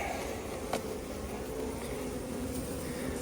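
A dense, steady hum of many honey bees buzzing close by at a hive, with occasional louder individual buzzes passing near.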